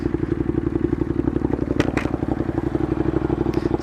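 A 2015 Ducati Monster 821 motorcycle being ridden, its engine throbbing in a steady, close, rapid pulse with wind rush and a couple of brief clatters.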